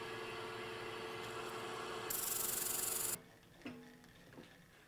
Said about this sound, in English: I'll finish sanding this up